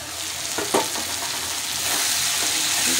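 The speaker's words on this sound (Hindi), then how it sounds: "अब इनको अच्छी तरीके से हम फ्राई करेंगे" Finely chopped spinach stems fry in a pan with a steady, close sizzle; a brief stirring scrape stands out early, and the hiss continues evenly without any talking.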